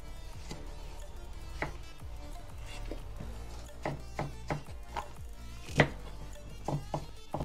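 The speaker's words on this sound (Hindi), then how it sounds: "तो इतना हम गाजर काट लिए" A knife chops carrots on a cutting board for a vegetable Manchurian dish, giving a string of uneven close taps that grow sharper and more frequent toward the end, under a low steady background hum.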